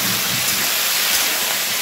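Pumpkin and potato frying in a pan, a close, continuous sizzling hiss with faint crackle, steady and loud for the whole stretch.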